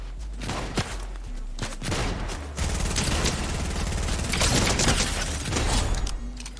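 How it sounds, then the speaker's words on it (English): Rapid gunfire in a video game rattles in dense bursts, loud and close, with mechanical clicking and clattering between volleys and no voices. "Who's shooting at me?"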